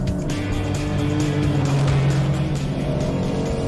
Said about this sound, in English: Launch control. Here we go. Go. Oh, the Audi's gone. Oh, that RS5 is gone! Gone, Quattro!